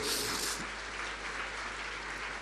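A church congregation applauding loudly in thanks to the Lord, a dense, steady wash of many hands clapping together for a couple of seconds.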